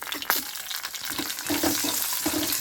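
Peanuts, chana dal and dried red chillies fry in hot oil in a pan, giving a steady close crackling sizzle with brief bursts of stirring scrapes throughout, no one speaking.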